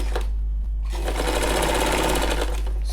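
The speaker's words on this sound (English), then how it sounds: "you put it one against the other and you sew them together" Sewing machine stitching turban cap pieces together, a brief pause then a steady rapid mechanical chatter close by, alone with no talk.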